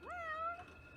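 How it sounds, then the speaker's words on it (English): A single cat meow from the RPG Maker horror game Fausts Alptraum rises and holds briefly, clear and fairly soft over a quiet background. "The cat was purring at a ring of keys on Elisabeth."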